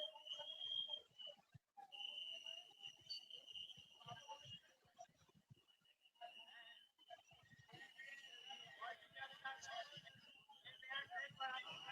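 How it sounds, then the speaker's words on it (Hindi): A whistle is blown again and again during a former police officer's court appearance, its shrill bursts repeating over a noisy background of crowd voices. "और सीटी बजाई जा रही थी लगातार।"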